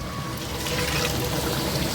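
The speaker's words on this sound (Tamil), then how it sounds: "செலவு வச்சிருந்த வாளியை கழுவுன தண்ணி ஒரு 1/2 லிட்டர் ஆட் பண்ணிக்கலாம்" Half a litre of bucket-rinse water poured into a large 30 kg biryani pot, a steady close splashing gush filling the brief moment.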